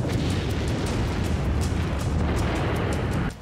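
Explosions in the war in Ukraine come as a loud, continuous rumbling roar broken by repeated sharp bursts, with no voices.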